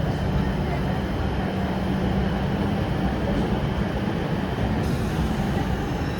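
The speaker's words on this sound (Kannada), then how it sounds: "ಆನ್ ದ ಟೈಮ್ಗೆ ನಮ್ಮ ಟ್ರೈನ್ ಡಿಪಾರ್ಚರ್ ಆಗ್ತಿದೆ" A DEMU passenger train, number 07395 running Ballari to Davanagere, pulls out of Ballari Junction, heard from on board as a dense, steady rumble of wheels and engine noise filling the whole stretch.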